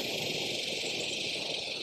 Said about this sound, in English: All the cicadas and everything is out because it's a beautiful day.